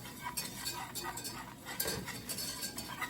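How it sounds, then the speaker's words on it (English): Flour, black pepper and salt whisked into melted butter in a pan for macaroni and cheese, a quiet rapid scraping and clinking of whisk against metal, continuous and close. "I'm gonna sprinkle that in and whisk it up."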